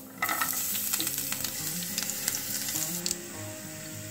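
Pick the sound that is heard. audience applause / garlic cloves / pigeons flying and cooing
garlic cloves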